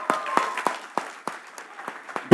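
A crowd at a film press conference applauds with uneven, scattered claps, moderately close, with a loud burst right at the end.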